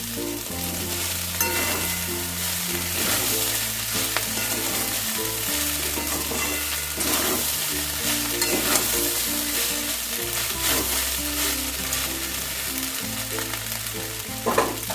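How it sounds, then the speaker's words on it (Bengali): Flattened rice stirred in a pan with peanuts, nuts and raisins, a steady fry and sizzle under repeated scraping strokes that continue evenly throughout, close and moderately loud, with no voices. "এগুলোকেও আমি ভালো করে চিড়ের সাথে মিশিয়ে নেবো"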